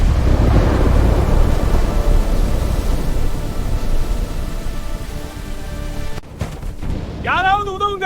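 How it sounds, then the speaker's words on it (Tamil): Sound effect for a children's story of a big evening storm in a forest: a loud, steady rush of rain and wind, then a sharp crack like thunder, after which a voice begins speaking. "ஒரு மாலை அந்த காட்டில் பெரிய புயல் ஆரம்பமானது."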